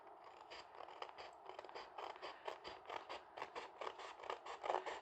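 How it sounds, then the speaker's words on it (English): Rapid, steady snipping of scissors cutting a half circle in paper for a German Schultüte, close by and fairly quiet, with no voices. "you take your scissors and you will cut from the bottom right corner"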